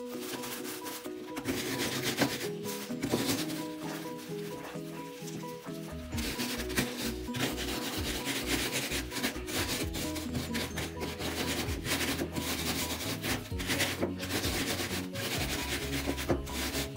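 Biscuits are ground for the topping of a no-bake cake, a continuous close scraping and rubbing that turns heavier and more rumbling about halfway through.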